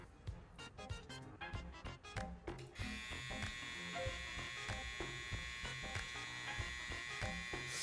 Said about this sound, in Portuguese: Eu vou realizar o teste de RPM dela agora